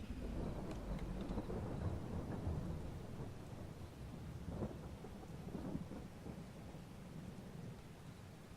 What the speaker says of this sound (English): This rain really needs to stop, though.